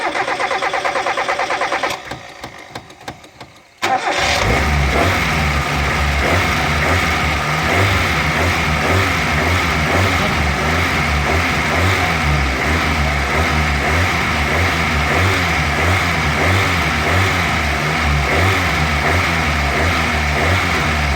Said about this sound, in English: I will start the engine and run it until the bowl in the carburetor is completely empty